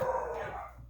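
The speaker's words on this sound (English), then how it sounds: "the dogs are barking, y'all" A single short, faint dog bark at a distance, a brief yip that fades quickly into quiet background.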